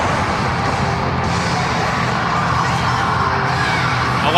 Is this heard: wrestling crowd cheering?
yes